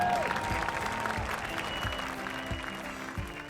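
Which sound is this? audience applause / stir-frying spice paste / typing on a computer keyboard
audience applause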